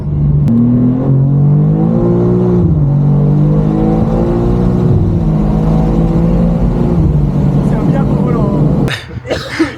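A heavily modified BMW M2 engine revs loud and close, its pitch climbing and dipping in sustained pulls before cutting off abruptly near the end.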